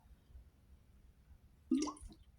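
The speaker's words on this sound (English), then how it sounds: "Excuse me, just a drink of water." A person takes a drink of water: a brief close burst of wet sipping and swallowing sounds, alone against quiet room background.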